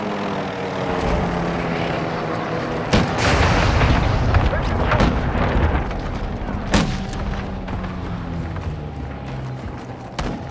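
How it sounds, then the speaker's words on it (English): A cruise missile strike explodes in Call of Duty: Modern Warfare II, with a roaring rumble, heavy booms and a sharp blast over a continuous wash of aircraft-like noise, loud and dense. "Friendly cruise missile approaching target."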